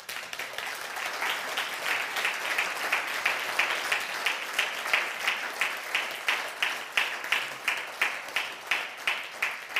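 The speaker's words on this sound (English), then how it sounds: "A round of applause to both of them." An audience at a leadership camp applauds in a sustained round of clapping that settles into a steady rhythmic beat, fairly close and even in loudness.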